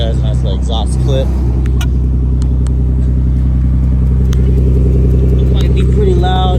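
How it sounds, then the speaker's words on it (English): A car with its catalytic converters removed idles close to the exhaust, a loud, steady deep rumble with a few light clicks and a brief vocal sound over it. "I'm going to just show you guys a nice little exhaust clip."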